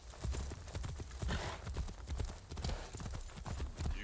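Horse hooves clip-clop steadily in Assassin's Creed Shadows, a brisk rhythmic trot of close, solid thuds over a busy outdoor background.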